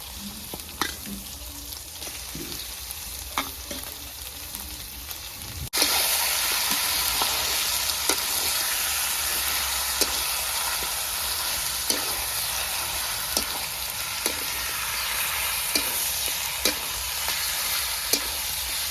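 Mutton for an Assamese-style curry drops into a hot pan and is stirred. A sudden loud sizzle starts partway through and holds steady, broken by scraping stirs, close by, with no talking.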